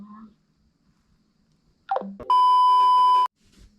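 A phone beeps while a call is placed. Short electronic tones come first, then a loud steady tone holds for about a second. The sound is close and clean, with near silence before it.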